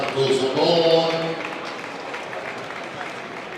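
Audience applause for Marco Zabon at a stage event, a burst of clapping with a voice briefly over it at the start, then settling into a softer steady patter.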